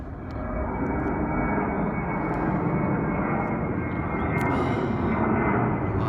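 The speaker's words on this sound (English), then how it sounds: "It looks like an American Airlines" An American Airlines Airbus A321 jet passes overhead near the Rio Salado pathway in Phoenix, Arizona, as a loud, sustained broadband engine roar that swells slightly while it flies over, with no speech.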